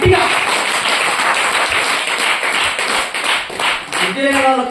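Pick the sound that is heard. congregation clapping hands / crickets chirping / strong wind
congregation clapping hands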